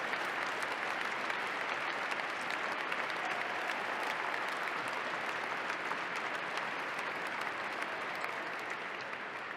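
Dense, steady applause from a large crowd at a presidential inauguration in Washington, sustained and loud for the whole stretch, with no speech over it.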